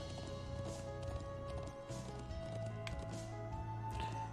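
In the video game Trails of Cold Steel 2, a horse's hooves clip-clop in a steady, quiet rhythm over a soft game music backdrop, with no speech.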